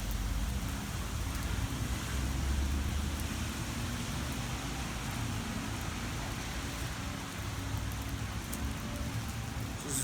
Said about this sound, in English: It's pouring, but it's fucking beautiful. I love when it rains